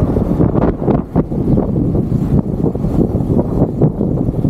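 Strong, steady wind buffeting the microphone on a mountain trail at Mt. Banahaw, Philippines, a loud low rumble that gusts and flutters throughout without pause.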